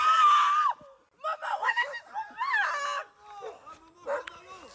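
Several girls barking loudly in imitation of dogs, a burst of shrill overlapping yaps and yelps that comes in rough waves and trails off into mixed shouts and giggles.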